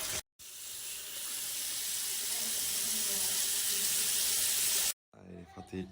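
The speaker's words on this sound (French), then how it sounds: "j'allume l'eau. J'ai l'eau bien chaude pour m'ouvrir les pores." Hot water gushes from a tap in a steady, loud, hissing stream for several seconds, then cuts off abruptly and a voice follows.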